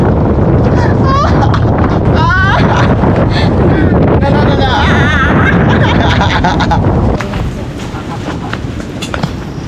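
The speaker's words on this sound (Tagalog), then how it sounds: "Sobrang lakas ng hangin." Heavy wind buffets the microphone in a constant loud roar on high ground by a lighthouse in Catanduanes during a typhoon, with a voice speaking over it before the gusts ease slightly near the end.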